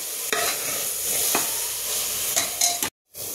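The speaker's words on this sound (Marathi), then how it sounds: "आपल्याला ह्याला छान तेल सुटेपर्यंत परतून घ्यायचे" A soy pulao mixture sautés in hot oil, sizzling steadily up close while a spoon scrapes and stirs it in a few distinct strokes, ending with a brief silent gap before the frying resumes.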